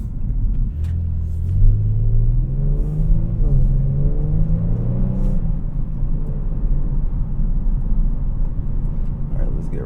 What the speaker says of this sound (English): All-wheel drive help you handle these turns on acceleration.